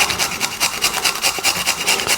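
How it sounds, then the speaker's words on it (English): Garlic grated on a hand grater produces a rhythmic rasping, about a dozen quick back-and-forth strokes in close, loud succession, with no talking. "As I told you, you're going to grate your garlic."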